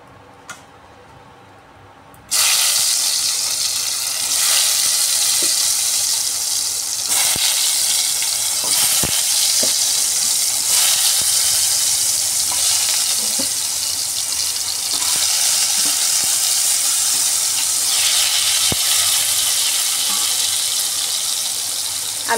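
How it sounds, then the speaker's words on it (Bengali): Turmeric-coated potatoes hit hot oil with a sudden sizzle, then fry in a steady loud crackle with occasional ticks of stirring, close by. "হলুদ মাখা আলুগুলো ভেজে নিচ্ছি।"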